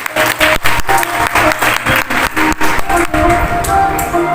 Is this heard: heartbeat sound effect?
no